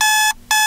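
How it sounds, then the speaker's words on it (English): An alarm clock in the visual novel Sakura Succubus trills loudly and steadily, a sharp electronic ring that cuts out for a brief gap and then resumes, with no voices. "my alarm clock is still trilling away"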